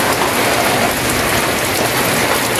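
Steady, heavy rain pouring down nearby in the first rain of May, a dense continuous hiss of drops on surfaces with no pauses.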